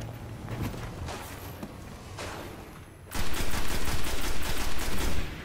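Automatic gunfire in the video game Destiny on PS4, aimed at an enemy sniper: a rapid, steady burst of loud repeated shots that starts abruptly midway and keeps going, after quieter shuffling and scattered pops.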